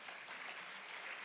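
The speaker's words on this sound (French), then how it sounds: "on peut les applaudir sur le pitch." An audience applauds after a startup pitch at a French web festival, a steady wash of distant, fairly faint clapping from a crowd throughout.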